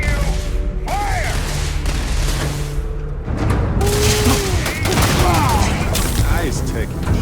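Rapid bursts of sci-fi weapon fire in a Starfield space shootout, loud and sustained with mechanical clatter and booming impacts, while voices call out over the fight.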